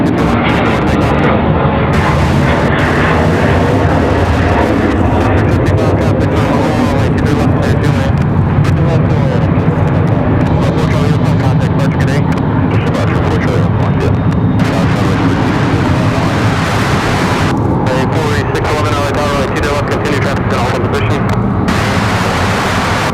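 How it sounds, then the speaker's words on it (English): Frontier airliner jet engines spool up at an airport, a loud, steady, broadband roar that holds for the whole stretch with no break. Heavy wind-like noise mixes in. "Sounds like that Frontier might be firing engines."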